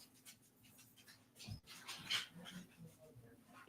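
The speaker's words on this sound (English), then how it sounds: "Oh, man, wrestling my dog down." A dog whimpers and yips faintly while being playfully wrestled on the floor, with soft scuffling and thumps in a quiet room and a sharp bump midway.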